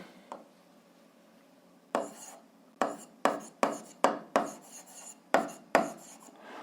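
An algebra solution is written out by hand: close, crisp scratchy strokes in an irregular rhythm with short pauses between bursts, no talking.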